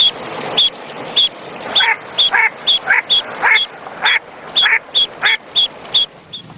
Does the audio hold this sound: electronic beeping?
no